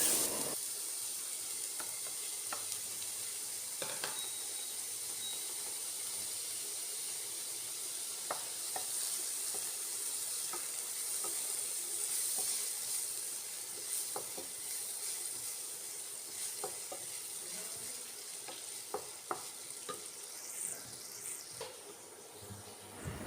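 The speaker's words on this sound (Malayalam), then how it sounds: "പച്ചമുളകും ഇഞ്ചിയൊക്കെ നന്നായിട്ട് വഴറ്റിയെടുക്കണം" Onions, green chilies and ginger are sautéed in a pan, giving a faint steady sizzle with occasional soft clicks of a spoon against the pan, with no talking.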